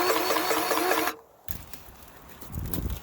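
An electric grease gun, used for servicing the many grease points on firewood-processing machines, whirs with a steady, loud motor buzz for about a second, then cuts off abruptly, leaving quieter background noise.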